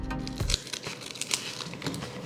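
Scissors cutting open a foil My Little Pony Kayou trading card pack, with close crinkling and tearing rustles in quick irregular bursts, no talking.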